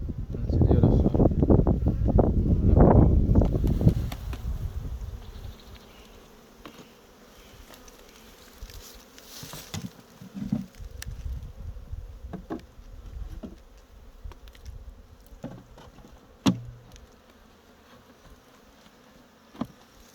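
Honey bees hum around an open hive on a Jamaican bee farm, with heavy close buzzing and rustling handling noise at first, then a lighter, steady buzz broken by scattered knocks.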